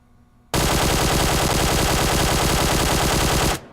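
QBZ assault rifle with a flash hider firing in PUBG Mobile, one loud sustained burst of rapid automatic shots lasting about three seconds, then stopping.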